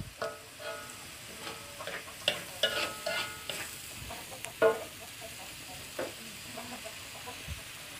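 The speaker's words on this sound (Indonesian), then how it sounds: "bumbu yang sudah dihaluskan digoreng juga" Ground spice paste frying and sizzling in a pan, stirred with a spatula in intermittent scrapes and clacks, close and moderately loud, with no talking.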